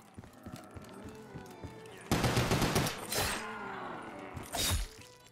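M14 rifle gunfire in a Roblox game: after quieter clatter, loud sharp shots crack out in bursts, with a long volley and then a final separate shot.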